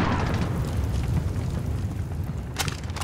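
A stun grenade going off in Call of Duty: Modern Warfare, a loud blasting rumble with crackling bursts, followed by a sharp pop near the end.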